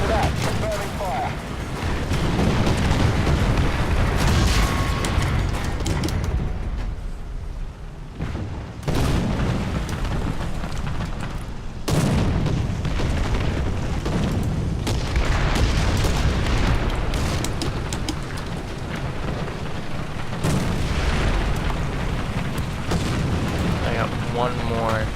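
Tank cannon fire in War Thunder ground battles with a German StuG tank destroyer: repeated heavy booms and rumbling blasts spread across the clip amid game sounds, with voices talking throughout.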